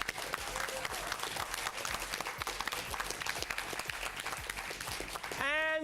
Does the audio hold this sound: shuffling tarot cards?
no